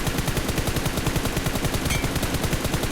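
Automatic gunfire in the PUBG Mobile video game, a rapid, loud, evenly spaced burst of shots continuing steadily without pause.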